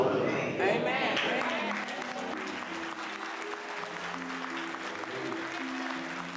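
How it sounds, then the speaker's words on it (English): A church congregation rises in a standing ovation, sustained dense applause filling the room from start to finish, loud and close, with no speech over it. "The whole congregation stands up and applauds Kuhlman"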